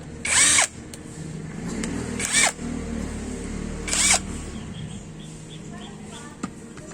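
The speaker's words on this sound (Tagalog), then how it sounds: "nag-prepare po ako ng 1-up drive impact wrench" An impact wrench on the rear sprocket of a Yamaha STX 125 motorcycle gives three short, loud whirring bursts spaced a couple of seconds apart, with a person talking in between.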